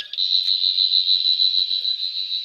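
A 14th Doctor toy sonic screwdriver's first sound when extended: a single high, steady electronic whine with a slight wavering pulse, close and loud, sustained for a couple of seconds.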